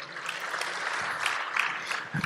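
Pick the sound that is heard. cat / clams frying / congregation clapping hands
congregation clapping hands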